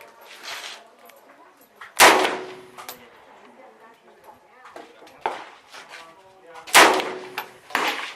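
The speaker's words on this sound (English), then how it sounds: "You? No, you shoot the bottom one." A CZ handgun fired at an outdoor shooting range, two loud sharp shots several seconds apart with metallic ringing and echo, amid lighter clanks and people talking nearby.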